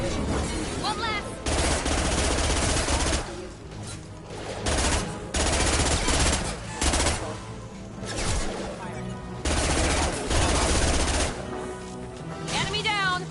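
Heavy sci-fi gunfire in a Mass Effect 2 firefight, with loud, close bursts of rapid automatic shots that repeatedly start and stop over the whole stretch.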